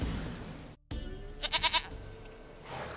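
Goat in The Witcher 3 video game bleating in a short wavering burst of three or four pulses, close and clear over low game ambience.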